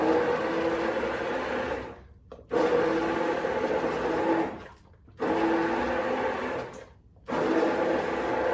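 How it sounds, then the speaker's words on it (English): An immersion blender pureeing potato corn chowder whirs loudly in three bursts separated by short pauses, with a churning, buzzing motor tone up close. "So with an immersion blender, you can get it kind of pureed."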